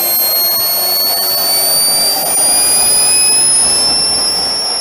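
A small jet engine spools up, producing a loud steady roar with a high whine that rises continuously in pitch throughout, close by and with no talking.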